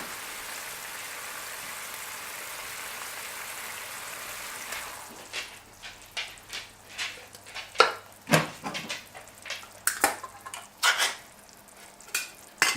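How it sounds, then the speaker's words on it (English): Crushed tomatoes are tipped into a pan of Spanish meatballs, then stirred with clinks and scrapes against the pan after a steady sizzle, the irregular clatters loud and close. "Now I add the crushed tomatoes."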